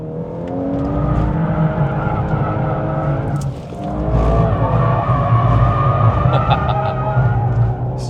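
Tires squeal steadily as a VW Golf 8.5 R drifts with its stability control switched off, a loud sustained skid with the engine droning underneath and a brief dip midway before the squeal resumes.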